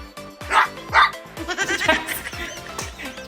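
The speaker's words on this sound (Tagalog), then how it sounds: "meron din ako dito mga Olidatics na aso sa gilid" Dogs at the side of a birthday photoshoot set give a couple of sharp barks near the start, over steady background music.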